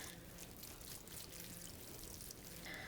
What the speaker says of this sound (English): we'll water the peppers in.